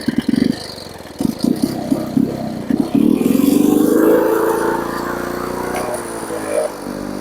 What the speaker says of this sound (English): that's an old D-Series engine right there